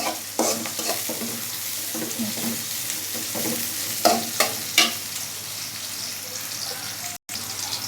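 Nigella seeds sizzling in hot oil in a pan, stirred with a utensil: soft continuous frying crackle with a few sharper scrapes and clinks, close and fairly quiet, no speech.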